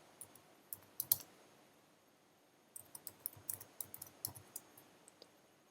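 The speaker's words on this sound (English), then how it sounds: "let's double click and type our title" Quiet mouse double-click followed by a burst of light, irregular typing on a computer keyboard, close and faint with no talk.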